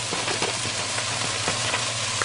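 Meat browns in a hot pan with a dense, steady sizzle and crackle, heard close up. A few soft stirring scrapes sound under it, and no one speaks.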